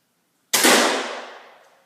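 A single loud rifle shot during shooting practice, a sharp close crack after silence with a long decaying echo that fades over about a second.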